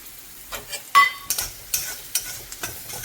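Ground spices, dry chilli powder and Kashmiri chilli powder among them, sizzling in oil in a pan for potol paneer, with soft scraping stirs and short crackling bursts at close range.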